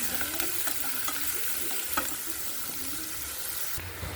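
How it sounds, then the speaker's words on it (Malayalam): Onion and carrot sautéing in a pan for egg noodles, a steady close sizzle with a spoon scraping and stirring in irregular strokes throughout, no voices. "സവോളയും ക്യാരറ്റ് ഇട്ടിട്ടുണ്ടേ അതും കൂടെ നമുക്ക് വഴറ്റിയെടുക്കാം"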